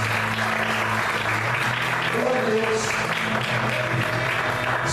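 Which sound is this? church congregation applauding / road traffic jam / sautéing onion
church congregation applauding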